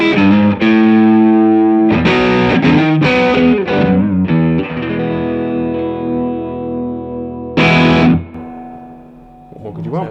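A Fender Player electric guitar played through its single-coil neck pickup rings out in strummed chords and short melodic phrases with sustained, slightly driven notes and a final fading chord.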